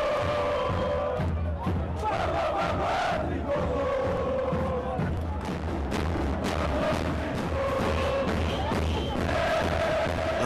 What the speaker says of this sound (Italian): La folla sembra impazzita e questo muro di frastuono ci investe per tutto il primo tempo.